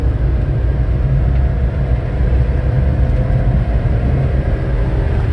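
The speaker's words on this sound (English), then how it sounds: "Now we're going back up this hill. So we are in 4th gear now." A Honda Acty mini truck climbs a hill in fourth gear, its engine drone and road noise forming a constant, loud low rumble from inside the cab, with no talking.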